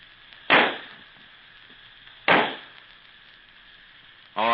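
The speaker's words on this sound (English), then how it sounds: "Then suddenly came a great sizzling sound, a loud bang, a red ball of light shot high in the air." Two sharp whooshing bursts from Roman candle fireworks, each a quick sizzle cut into a bang, with a third starting at the end; the sound is thin and band-limited like an old radio broadcast over a steady hiss.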